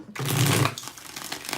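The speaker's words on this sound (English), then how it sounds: "Let's get 6 shuffles here" Tarot cards being shuffled by hand, one brisk riffle with a soft papery flutter followed by quieter rustling.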